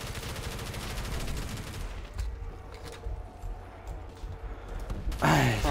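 Stoner machine gun in Call of Duty custom zombies firing in a rapid sustained burst, then scattered shots and game noise, with a fresh burst of fire at the end; someone talks intermittently.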